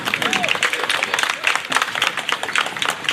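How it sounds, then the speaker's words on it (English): A crowd claps and applauds at an outdoor Juneteenth 2021 flag-raising ceremony in East Orange. The applause is dense and steady, with voices mixed in throughout. "Give him another round of applause"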